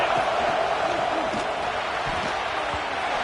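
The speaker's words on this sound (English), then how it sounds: "how nice is it to have the home crowd going absolutely bananas?" Loud, steady roar of a home crowd at a Texas A&M college football game against Utah State, a dense continuous wall of cheering and noise throughout with faint commentary-like voices underneath.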